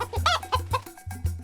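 A distressed rooster in a scene from the film City of God, heard as a quick run of agitated clucks and squawks, close and loud, with a low rhythmic thumping underneath.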